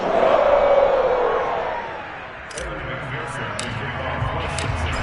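Stadium crowd at a Bengals football game roaring loudly at first, then easing into a broad sustained murmur with sharp claps and shouts scattered over it.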